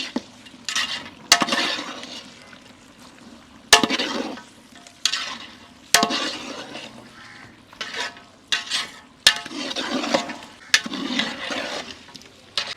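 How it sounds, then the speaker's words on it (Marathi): Village mutton is stirred with chilli powder and garam masala in a pot over a wood-fired clay stove, giving repeated scraping, sizzling strokes in rhythmic bursts, punctuated by sharp metallic knocks of the spoon against the pot. "हे मिरची पावडर गरम मसाला आणि एकदा हलवून घेऊया"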